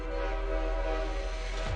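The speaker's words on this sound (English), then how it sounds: "Oh, that's a train." Train pulling into a station in the video game Arknights, a steady sustained horn-like tonal drone over low rumble, loud and continuous for under two seconds.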